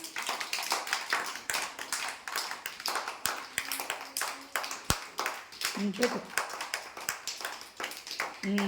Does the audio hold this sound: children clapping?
yes